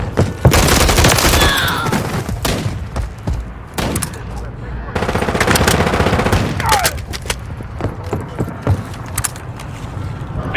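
Dense automatic gunfire in a Call of Duty Modern Warfare III battle, long loud bursts and rapid volleys overlapping almost continuously, with brief gaps and clicky mechanical rattles between.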